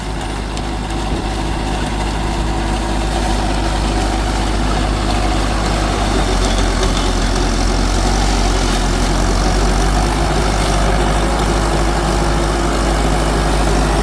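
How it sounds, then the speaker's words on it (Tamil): A Sonalika Tiger 75 CRDI 4WD 75 HP tractor drives a rotavator through its PTO during banana mulching, its diesel engine droning loudly and steadily for the whole stretch without a break. "இது பாருங்கள் ரொட்டாவேட்டர் ஒரு துளி கூட ஜம்ப் ஆகாமல் ஓடுதுங்க"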